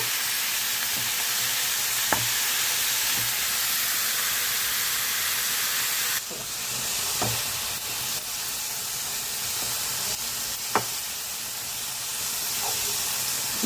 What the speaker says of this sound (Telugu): బీరకాయ తొక్కు కూడా వేస్తానండి నూనెలోని వేపిసుకుందాం